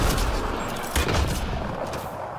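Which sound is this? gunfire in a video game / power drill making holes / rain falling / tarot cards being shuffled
gunfire in a video game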